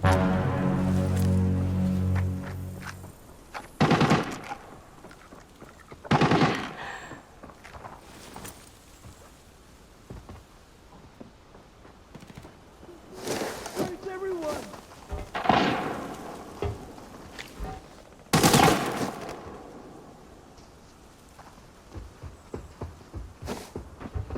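Gunfire in the shooter game Arena Breakout, heard as sharp, loud bursts scattered through the clip with quieter rustling and movement noise between them, after a brief droning tone at the start.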